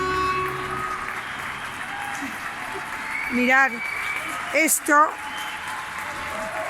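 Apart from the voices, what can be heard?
applause for healthcare workers in Valencia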